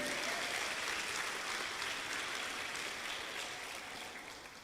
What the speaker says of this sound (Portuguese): Só quem crê vai dar um aplauso a Ele aí.